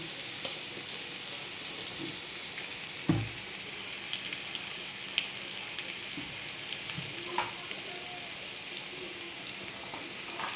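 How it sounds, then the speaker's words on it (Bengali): Onions frying in a pan for a simple egg curry give off a steady, close hiss of sizzling oil, with a few faint clinks and light scrapes scattered over about ten seconds and no voice. "হালকা লাল করে পেঁয়াজ ভাজা হয়ে গেছে"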